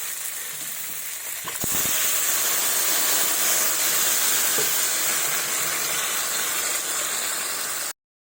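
Water hits a hot pan of fish curry with eggplant and tomato, bursting into a loud, steady sizzle and hiss that holds for several seconds before it cuts off abruptly.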